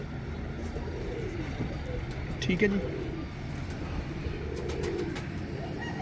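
Pigeons coo nearby, with one clear, low, rolling call standing out midway through. Someone speaks over a steady background hum.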